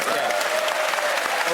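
Studio audience on a comedy panel show bursts into loud, dense applause with some crowd noise and voices mixed in, sustained for a short stretch.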